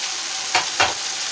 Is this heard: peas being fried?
yes